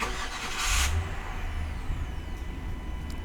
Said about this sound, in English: would you expect that engine to sound as good as this?